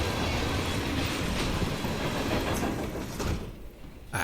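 Train rolling along the rails in Hitman III, a steady, loud rumble with rattling wagon noise that thins out near the end before a brief swell.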